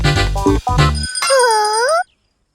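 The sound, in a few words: bell ringing in Pocoyo cartoon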